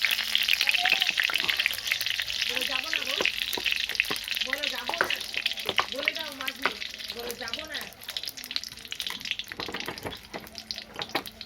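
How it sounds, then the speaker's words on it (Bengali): Dry red chilli, bay leaf and panch phoron tempering in hot oil, a constant crackling sizzle with clinks of a spoon against the pan and a voice talking briefly underneath. "তেলটা গরম করে শুকনো লঙ্কা, তেজপাতা, পাঁচফোড়ন ফোড়ন দিলাম"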